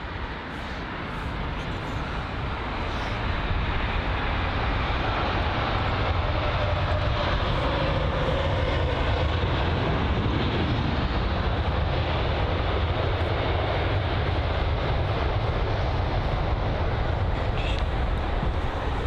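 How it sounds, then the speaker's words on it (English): Aircraft taxiing at London Heathrow, a broad steady roar of jet engines that swells slightly after the first few seconds and then holds, with no voices. "Some nice taxiing action whilst we wait for the next arrival"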